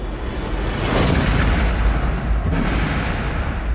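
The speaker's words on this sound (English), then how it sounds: "He uses a spring-loaded device to act as a primer for the bullet." A bullet fired by a spring-loaded homemade primer rig in a test of lithium battery explosions, heard as a loud sustained blast that rumbles and roars for several seconds with no voices.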